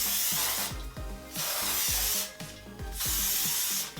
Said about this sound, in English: this spray's on clear, so I don't really know what's going on when I'm spraying